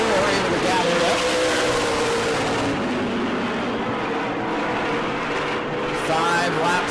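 Modified race cars roar around the New Smyrna oval, engines howling loudly and continuously with pitch rising and falling as they pass, under a commentator's voice.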